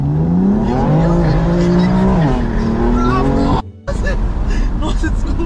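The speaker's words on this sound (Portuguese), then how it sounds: "Ele vai ficar impressionado com o ronco" A loud car engine roars up close and steady without a break, its revs climbing and falling, with one very short drop-out near the end and faint voices beneath it.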